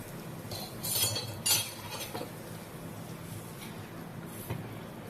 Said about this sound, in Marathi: आता काप उलटून घेऊया